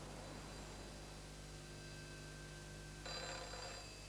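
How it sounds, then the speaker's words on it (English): A telephone rings at a rural Irish Garda station in 1982, with steady tonal ringing over a constant hum and a brighter, louder burst near the end; no voices. "the phone rang"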